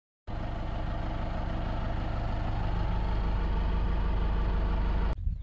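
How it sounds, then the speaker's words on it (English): An old John Deere tractor hooked to a round baler idles steadily and close, a continuous low diesel rumble that starts abruptly and is briefly disturbed near the end. "So we got the tractor hooked up to the round baler."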